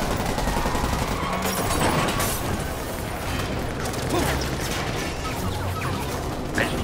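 Gunfire rattles through a dense action scene in the Marvel's Spider-Man video game, with overlapping bursts and crashes forming a loud continuous barrage with no break.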